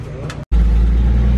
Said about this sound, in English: About to go on a buggy ride.